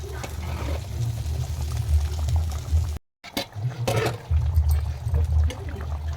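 Fish curry simmers in a pot at home, with a low, steady bubbling rumble that is briefly cut off and then resumes along with a few faint clinks.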